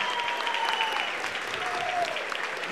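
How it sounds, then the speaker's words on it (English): A crowd at a live Muay Thai fight event keeps up dense, steady applause throughout, filling the whole short stretch at a fairly even loudness. "Big round of applause, ladies and gentlemen, to the grand reception."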